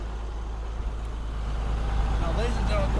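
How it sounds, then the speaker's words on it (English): Steady, close diesel rumble from a 2002 International Hi-Ranger XT60/70 forestry bucket truck idling slightly raised, growing a touch louder toward the end, with someone talking over it. "I've got it idled up a little bit"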